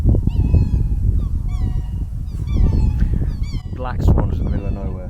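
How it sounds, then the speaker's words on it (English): Black swans honk loudly and close by in an outdoor spot near Kalbarri, with repeated bugling calls rising over a steady rumble of wind or background noise. "Black swans in the middle of nowhere."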